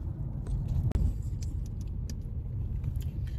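A car moving in slow traffic in Japan, with a steady low road rumble and a few light rattles or jingles inside the cabin, plus one brief sharp knock near the start.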